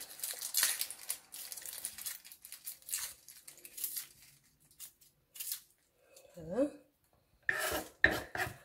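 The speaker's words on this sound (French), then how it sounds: "je vais nettoyer mes échalotes comme ceci. Et je vais les découper en tout petits morceaux." A knife cuts shallots into small pieces on a board, giving irregular scraping and tapping bursts, some louder clusters near the end, with intermittent quiet gaps.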